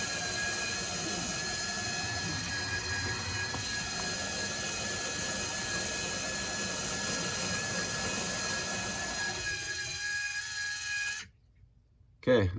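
A water softener running a rinse or backwash cycle makes a continuous whooshing, humming rush of water and motor that holds steady for about eleven seconds, then cuts off abruptly into near silence.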